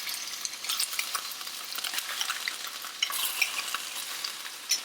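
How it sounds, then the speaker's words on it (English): Beef liver fries in butter in a pan, with a close, crackling sizzle and scattered pops running throughout, growing livelier toward the end. No voices. "I just added a little bit more butter, and what I'm going to do now is go ahead and add the liver."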